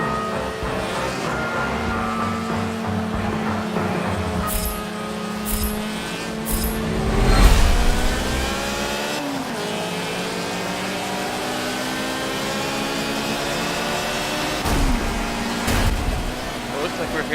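A tuned Mazda RX-8 rotary engine in Forza Motorsport 7 revs and shifts through gears at Homestead race circuit, a steady buzzing drone rising and dropping in pitch, with someone talking over it throughout.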